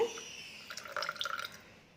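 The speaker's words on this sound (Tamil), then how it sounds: "இப்போ வந்து நம்ம வடித்து வச்ச ஜூஸ் வந்து ஊற்றிக்கலாங்க" Strained pomegranate juice poured over ice cubes in a glass, a short, close trickle and splash with light gurgling that fades out after about a second.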